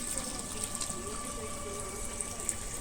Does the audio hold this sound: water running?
yes